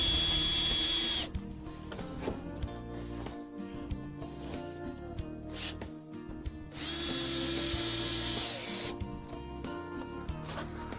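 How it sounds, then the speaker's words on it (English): A power drill drives screws into the top board of a wooden vegetable planter, two long whining bursts at the start and middle separated by handling clatter and knocks, close and loud. "the last 2 screws go into this top board at this end"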